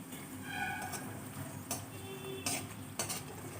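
Potato pieces fry uncovered in oil over a low flame for aloo methi, a soft steady sizzle broken by a few sharp clinks and scrapes of stirring in the pan.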